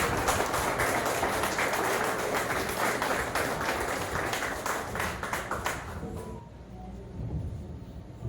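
A church congregation claps loudly and continuously for about six seconds, a dense roar of many hands that then tapers off into scattered claps and room murmur.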